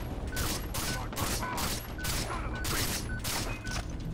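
Gunfire in Far Cry 3 during a rooftop firefight, a rapid string of loud, close shots in quick bursts over dense combat noise.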